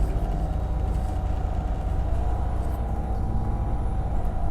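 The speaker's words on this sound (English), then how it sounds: "Is that a gas bus? It's gas bus." A gas-powered Transperth bus from 1983 passes at a stand on Oats Street in East Victoria Park, giving a steady, loud low engine rumble with a constant drone throughout and no talk.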